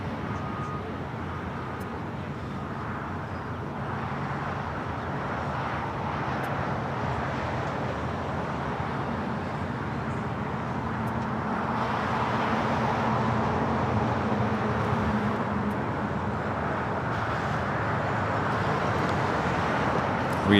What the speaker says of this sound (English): Got the traffic sounds, the airplane sounds.